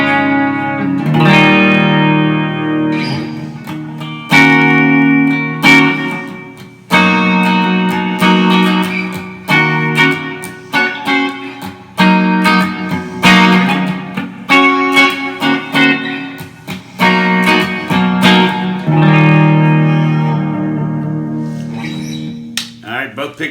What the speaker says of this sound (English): A little bit of reverb on the bridge pickup